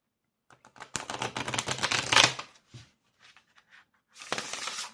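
Oracle cards from a letting-go deck riffled and shuffled by hand, a dense burst of crisp papery flicking for about two seconds, then a few soft card taps and a second shuffle flurry close by, with no talking.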